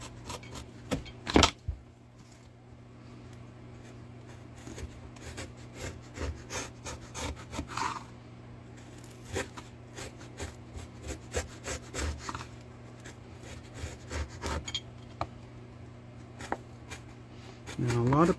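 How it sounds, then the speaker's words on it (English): A skew chisel cuts into wood while relief carving a fantasy medieval light post, giving repeated short scraping and rasping strokes spread across the span, close and fairly quiet over a steady low background hum. "we use the skew chisel to just get in there to the depth that we cut"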